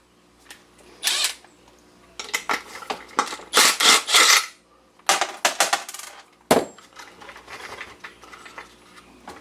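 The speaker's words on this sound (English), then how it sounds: "Now I'm going to remove this nut right here. It's a 1/2 inch. It's reverse thread." A 1/2 inch reverse-thread nut being removed from a Stihl blower: bursts of ratcheting and metallic clicking from a hand tool, plus clinks of loose parts, recorded close up with short pauses between turns.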